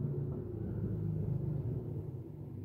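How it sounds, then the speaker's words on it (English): A passing car gives a low, steady rumble that swells and fades gently over a few seconds, with no talking during it. "Oh, that's a car."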